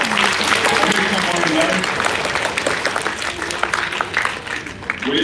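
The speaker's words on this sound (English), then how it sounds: "go ahead, clap. I'll take that." Audience clapping during a talk; lively, full applause from a crowd that thins slightly toward the end, with a voice speaking over it.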